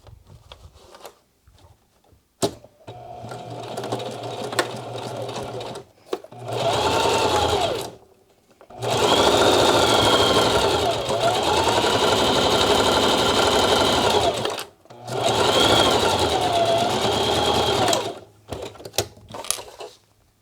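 A sewing machine stitches a rolled hem on a sling crossbody bag in several long, steady whirring runs, with short pauses between bursts, loud and close.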